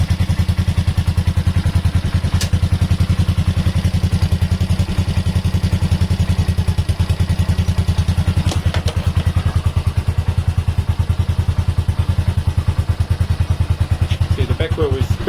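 A Honda MSX 125 Grom motorcycle running with its rear wheel spinning, a steady close rapid engine thrum with a light clatter throughout.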